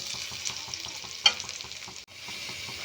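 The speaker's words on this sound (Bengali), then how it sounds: "এবারে আমি এর মধ্যে সব সবজিগুলো দিয়ে দেব, আর দিয়ে দেব ক্যাপসিকাম ও সুইট কর্ন, দিয়ে এবারে ভালো করে মিশিয়ে নেব" Mixed vegetables with capsicum and sweet corn frying in a spiced pan for a vegetarian navratan dish, a soft steady sizzle under rhythmic stirring scrapes, with one sharp clink midway.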